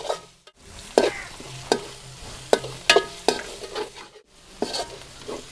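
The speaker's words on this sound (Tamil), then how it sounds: "இப்போ ஜீரகம் மிளகு கொட்டி அதோட சேர்த்து பிரட்டிப்போம்." Tomato, ginger, garlic, cumin and pepper are stir-fried in a pan, with a crackling sizzle under about a dozen sharp, irregular scrapes and knocks of a spoon against the pan.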